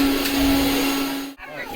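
A loud, steady mechanical whir of a mixer grinder grinding betel nut runs continuously, then cuts off abruptly near the end.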